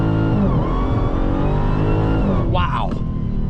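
A Dodge Demon 170 accelerating hard from the driver's seat, its steady loud engine roar building as revs climb, with a voice over it near the end.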